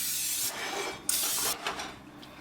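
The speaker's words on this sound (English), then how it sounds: "Spray a little bit of canola oil on here." Canola oil sprayed from a can onto a casserole dish, several short hissing bursts of aerosol spray in quick succession, close up with brief pauses between them.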